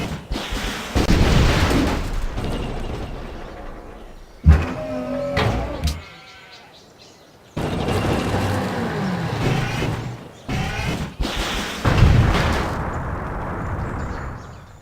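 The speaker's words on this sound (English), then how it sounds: "use this guided missile on something" Guided missile strike in Civilization V: several sharp booming impacts and explosive bursts, with a loud hit near the middle followed by rumbling game effects, no talking.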